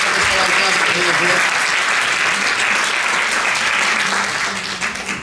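Audience clapping loudly at a children's rights anniversary celebration, a dense, sustained burst of applause with some voices underneath, tapering slightly at the very end.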